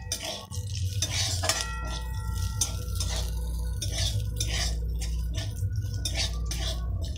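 Green chillies being stirred and lifted out of a pan of oil and ghee, with steady scraping and clinking of a utensil against metal over a continuous low sizzle, close and moderately loud.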